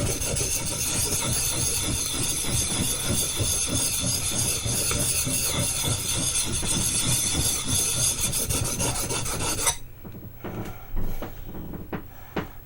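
A steel blade rasps steadily across a Baryonyx American Mutt sharpening stone in continuous close strokes for about ten seconds, then stops, leaving a few faint scrapes and taps.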